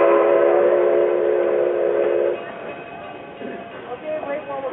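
Durango & Silverton steam train whistle gives a steady, loud blast for about two seconds, then cuts off and leaves quieter train rumble with faint scattered sounds.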